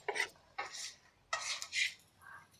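Steamed egg cube pieces are stirred into a thick masala curry in a pan, with four or five short scraping clinks of a metal spoon against the pan, close and fairly quiet.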